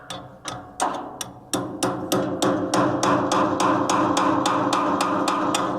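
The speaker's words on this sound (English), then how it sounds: "Drive it in until the sound changes." A roll pin is hammered into the spreader shaft of a Herd 750 broadcast spreader: close, sharp metallic strikes, about fifteen of them, start slow and quicken into a steady driving rhythm, with no voices.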